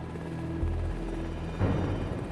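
A Coast Guard rescue helicopter flies over Alaska, its steady rotor and turbine drone running throughout with a low pulsing beat that shifts pitch and grows slightly louder partway through.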